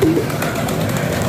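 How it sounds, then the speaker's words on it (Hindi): Racing pigeons returning to their loft, with soft bird sounds and cooing over a dense, close background murmur in a brief burst. "ये जी कबूतर आ रहे हैं, ये माशाल्लाह आ गया जी एक कबूतर कासद"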